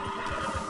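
A horse neighs in the video game Red Dead Redemption 2, a short, fairly loud whinny heard alone without talk.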